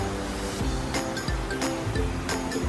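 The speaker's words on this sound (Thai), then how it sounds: "นี่นะครับน้ำไหลดีนะครับ" Water pours steadily at Than Thong waterfall in Nong Khai, a dense, continuous rushing wash with a few brief bursts, heard up close with no talking.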